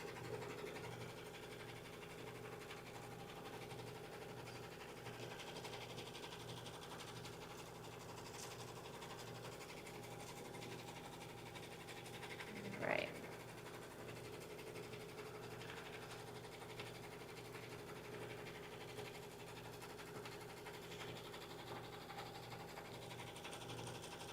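A sewing machine stitches a bag, running as a steady, faint, continuous whir with a regular mechanical pulse throughout and one brief click about halfway through.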